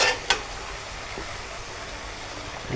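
Fried chital fish pieces tipped into a hot pan with poppy seed masala, a sharp splash of sizzle at the start settling into a steady frying crackle, close and alone without talk.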